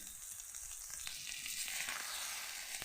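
Boiled potatoes dropped into a pan of frying spices with turmeric, a quiet hiss and crackle that shifts as they land, with light stirring.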